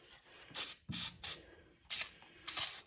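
Carburetor cleaner sprayed onto a Troy-Bilt 2410 snow blower carburetor in five short, sharp hissing squirts with brief gaps, close and fairly quiet, with faint clicks of the nozzle between bursts.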